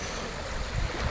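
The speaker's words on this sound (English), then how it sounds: "It's the sound of the sea." Sea waves washing steadily in a brief stretch, a soft continuous roar with a slight swell near the end, fairly quiet and with no voices.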